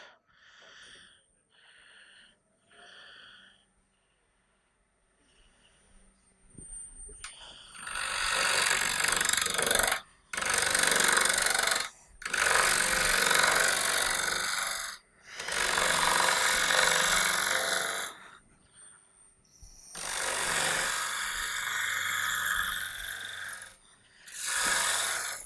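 An Indian rosewood bowl being turned on a lathe, with long loud bursts of broadband scraping hiss as the tool cuts, broken by short pauses and a faint motor whine between passes.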